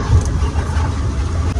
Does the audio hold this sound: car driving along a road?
yes